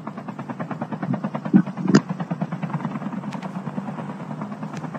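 A helicopter in the Call of Duty Mobile video game idles with a steady, close, low rotor-and-engine drone that pulses rhythmically throughout, with a couple of brief sharp clicks partway through.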